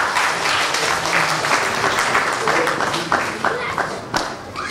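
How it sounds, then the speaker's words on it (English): A wedding congregation in church claps together, with a dense, continuous patter of many hands that holds steady throughout, mixed with voices. "I want us to clap to the glory of God."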